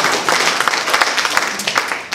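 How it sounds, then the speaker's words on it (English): People in a room at a stormwater community forum applaud with dense, close clapping that continues at an even level for about two seconds. "Give yourselves a round of applause."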